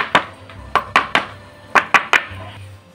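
A bowl of cake batter tapped against a surface, seven sharp close knocks in irregular pairs and singles, each decaying quickly, with quiet pauses between.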